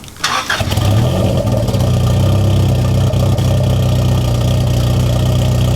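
A Honda Civic EG hatchback with a new exhaust cold-starts with a short cranking burst, then settles into a loud, steady, close-up idle that drones on without a break.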